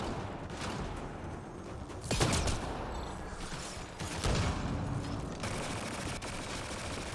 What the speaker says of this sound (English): Man, this is a powerful shotgun.